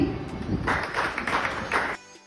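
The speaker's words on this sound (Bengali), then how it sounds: "হাততালি" Applause from a small group at a photography meetup as a first-place contest winner is handed her gift, a steady burst of clapping with a few murmuring voices underneath that cuts off abruptly near the end.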